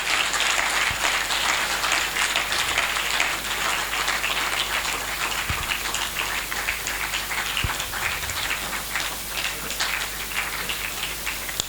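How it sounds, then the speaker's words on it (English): Sustained audience clapping fills a faculty administration week session hall, dense and steady throughout with no talk over it. "No, keep clapping till it gets to 6."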